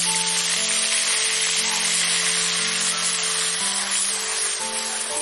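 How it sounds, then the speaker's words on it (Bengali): Onion paste sizzling in hot oil with black cumin tempering, a steady bright frying hiss running throughout, close and fairly loud, with a faint electric whine beneath. "প্রথমে আমি কালো জিরে ফোড়ন দিয়ে দেব। এই উপকরণটা আমি আপনাদের বলতে ভুলে গেছিলাম। দিয়ে দেবো পেঁয়াজ বাটা"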